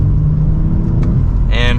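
A 2024 BMW M3 Competition or M340i engine under mild acceleration, heard as a steady close rumble and whir from inside the car, with a brief higher chime near the end.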